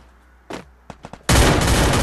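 Gunfire in the video game Free Fire: a few sharp single shots followed by a loud, dense sustained burst of rapid fire, close and punchy.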